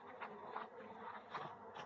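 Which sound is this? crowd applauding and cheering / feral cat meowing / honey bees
honey bees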